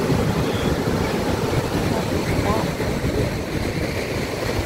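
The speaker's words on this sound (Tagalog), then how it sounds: "Uy, wave sounds, guys. Wow. Yeah. Ang lakas ng alon, no?" Ocean waves wash and roar continuously at the Elephant Trunk Rock formation, with wind buffeting the microphone and a steady rush of surf.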